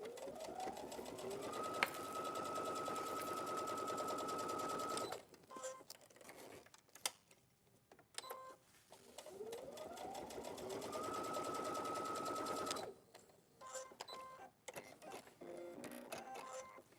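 A sewing machine top stitching laminate fabric near the edge with normal thread and needle, running in two long steady bursts with a rising motor whine, separated by quiet handling noises.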